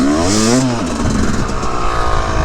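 A two-stroke motorcycle engine revs up loud and close, its pitch climbing and then holding at a steady buzzing drone with some mechanical clatter, with no voices.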